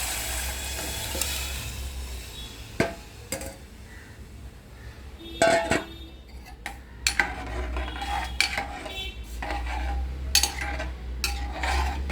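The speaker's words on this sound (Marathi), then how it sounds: "त्यानंतर ही डाळ शिजवलेली आपली त्यामध्ये टाकायचं" Cooked dal (lentils) tipped into a sizzling pot for varan, with a steady fry hiss under scattered metallic clinks and scrapes of a spoon against the pot.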